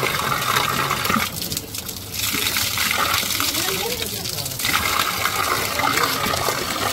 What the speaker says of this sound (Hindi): रास्ते में मुझे एक छोटा सा वाटरफॉल दिखा है